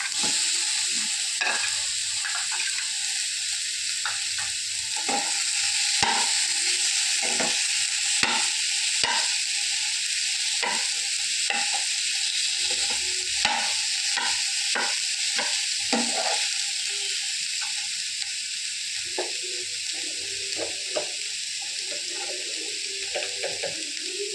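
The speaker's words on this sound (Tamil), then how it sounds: "பீட்ரூட் நல்லா பச்சை வாசனை போக வதங்கணும்." Beetroot sautéing in a pan for Tamil-style vadai, with a steady sizzle and repeated scrapes and taps of a spoon stirring throughout; no talking.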